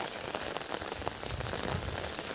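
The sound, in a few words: rain falling on an umbrella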